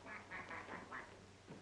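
A person imitates a duck with a series of nasal quacks in quick rhythm, faint and slightly muffled, in a 1939 comedy film.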